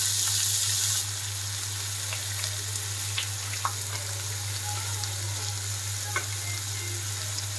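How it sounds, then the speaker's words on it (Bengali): Chopped onions frying in hot oil for ghugni, a steady close sizzle with light crackles and occasional stirring taps over a low hum, no voices. "পেঁয়াজ কুচিটাকে দিয়ে দিলাম ভালো করে।"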